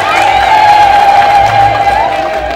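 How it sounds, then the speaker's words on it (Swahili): Wedding guests at a district commissioner's wedding celebration in Songwe clap and cheer as a loud, dense crowd roar that holds steady throughout, with a sustained high tone running through the noise. "Jipigeni makofi hapo mlipo."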